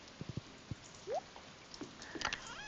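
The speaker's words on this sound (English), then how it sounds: "And this rainy day is really aesthetic actually." Rain in the video game Stardew Valley, a faint patter of scattered drops tapping irregularly, with a few louder nearby plinks against a soft steady hiss.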